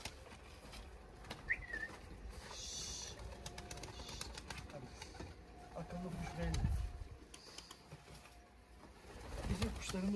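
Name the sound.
pigeons cooing in a loft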